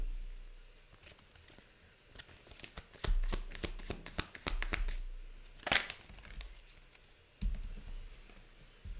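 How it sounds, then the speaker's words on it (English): Tarot love cards are shuffled close by in quick, papery riffles and soft slaps. The bursts are quiet and uneven and come in clusters, with no talking over them. "let me pull you some love cards"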